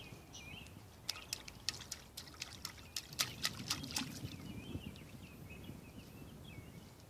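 A bird splashes about in a new bird bath, giving a run of quick, close, uneven water flicks and patters that grow busier toward the middle, with no voice over them.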